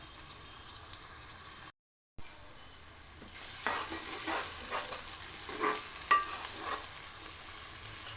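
Tomato sizzles in oil in a pan for a crab curry, a steady bright frying hiss with scraping stirs throughout, broken once by a brief silent gap.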